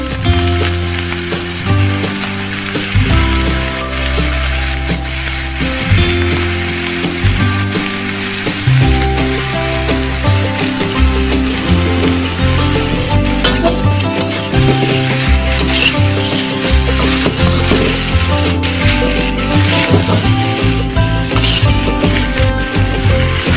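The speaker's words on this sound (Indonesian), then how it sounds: "Terakhir kita masukkan kecap ya." Soy sauce sizzles and crackles in a frying pan with fried dumplings, a steady loud hiss lasting throughout, with a rhythmic low background beat underneath.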